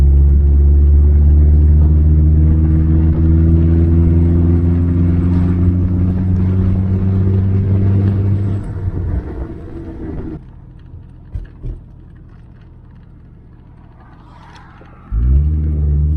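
A Triumph TR4A sports car cruises on a sunny spring road, its engine droning loud and close with steady harmonic tones before the revs drop, leaving quieter rumbles and bumps, then the engine picks up again.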